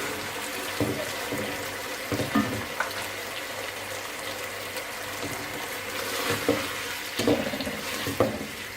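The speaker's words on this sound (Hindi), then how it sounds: "आप इसमें थोड़ा सा बिल्कुल पानी ऐड कर दें" Water is poured into a pan of chicken Manchurian with cornflour, a steady rushing splash over a soft sizzle, with a few light clinks from utensils near the end.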